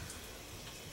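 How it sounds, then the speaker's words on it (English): A kitchen tap runs water in a steady, faint, hissing stream for a moment, with no voices. "Turn off the water."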